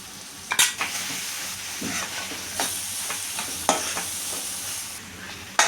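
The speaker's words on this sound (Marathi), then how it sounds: "हे वाटप मी सगळं फोडणीत घालत आहे।" Ground masala paste sizzles and fries in hot oil tempering for chickpea usal, with repeated scraping stir strokes in the pan cutting through a steady crackling hiss, close and fairly loud, no talk.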